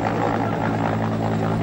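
Bell 214C helicopter of the Imperial Air Force, a steady droning rotor and engine roar that holds constant and fairly loud throughout.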